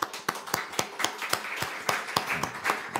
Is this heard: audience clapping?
yes